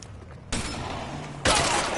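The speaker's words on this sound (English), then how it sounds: "I want to just bust that motherfucker with that shotgun right now" Two loud, broad shotgun-like blasts about a second apart in LA Noire, each with a sudden onset and a sustained rough tail, with no talk over them.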